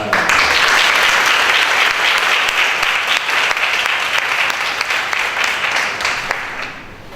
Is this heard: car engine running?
no